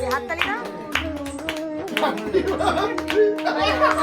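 Rhythmic hand clapping at an office birthday celebration with cake cutting, steady claps mixed with voices and someone speaking, lively and close.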